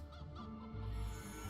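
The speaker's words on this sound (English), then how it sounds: "that chicken noise is awful" A chicken noise from the 3D Metroidvania game Poppet Quest: faint, continuous honking squawks and clucks from a fowl sound effect, repeating with no talking over them.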